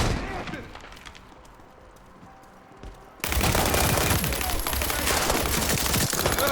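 Gunfire in the video game World War 3: a muffled patch of shots gives way to a loud, sustained burst of automatic fire.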